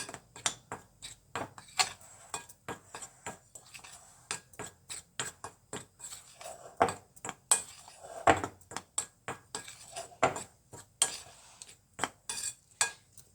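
Chicken popcorn marinade with chaat masala is mixed in a bowl, giving a series of sharp spoon-against-bowl clinks and taps in an irregular rhythm, close and fairly quiet, with no voices.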